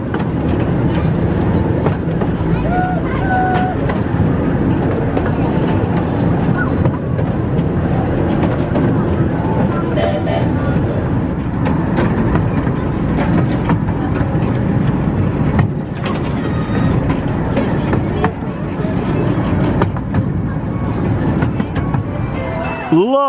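A theme park train running on rails makes a steady, loud rumble with clickety-clack and low engine drone throughout a full loop, with voices faintly beneath the constant running noise.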